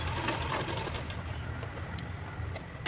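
A sewing machine runs steadily while stitching a peplum top along a gathered seam, a continuous low mechanical whir with a few faint high ticks over about three seconds, with no voices.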